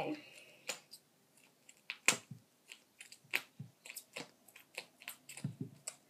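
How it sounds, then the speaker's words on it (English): Scissors, the wrong kind for the job, chopping through duct tape for a miniature rug, with a series of sharp crisp snips at an uneven pace, close and fairly faint. "I have the wrong kind of scissors for cutting duct tape."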